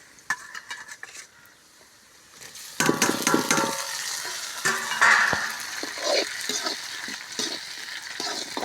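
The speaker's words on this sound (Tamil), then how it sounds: "எண்ணெய், கடுகு, வெங்காயம், காஞ்ச மிளகா வதங்கிடுச்சு" Onion, mustard seeds and dried chillies fry in hot oil, a soft crackle at first, then a loud steady sizzle with scraping stirs and spatula clinks against the pan.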